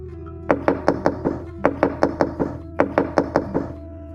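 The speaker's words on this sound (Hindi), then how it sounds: "उन लोगों ने जोर जोर से मेरा दरवाज़ा खटखटाना शुरू कर दिया।" Loud knocking on a door, fast bursts of several sharp raps each, repeated in three clusters and close by, with a low hum underneath.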